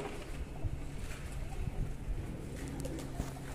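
Freshly released pigeons at a loft coo in low, steady murmurs, with soft fluttering bursts of wings at close range against a busy outdoor background.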